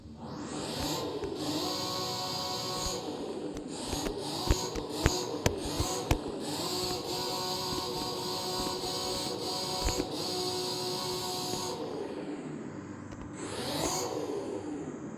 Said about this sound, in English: Now I'm gonna rev it in manual.